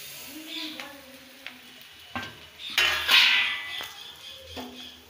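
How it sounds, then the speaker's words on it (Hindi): Flattened rice (chura) goes into a pan of fried onions and is stirred with a utensil, giving scattered scraping and clinking strokes over a soft sizzle, close and moderately loud. "और इसमें चूड़ा डालेंगे।"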